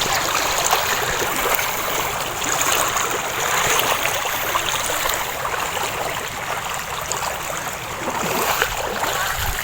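River water rushes steadily in a dense, hissing wash as people wade across, a continuous close churn of flowing and splashing water with no voices.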